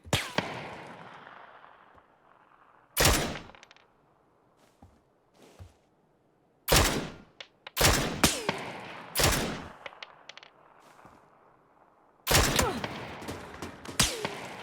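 Gunfire in PUBG on the Erangel map's bridges, several sharp, loud shots and short bursts spaced irregularly, some in quick pairs, with fainter distant pops and a soft rumbling backdrop between them.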